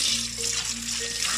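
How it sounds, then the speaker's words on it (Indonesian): Papaya leaves are rinsed under running water, a steady soft splash and hiss of flowing tap water that continues for a moment, fairly faint and close, with no talking. "bilas dengan air mengalir"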